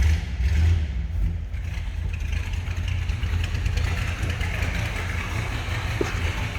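A 1964 Ford Galaxie with a 390 V8 and tri-power carburetion idles in neutral with a steady low rumble, close and continuous, with a slight lumpy pulse and light mechanical clatter throughout.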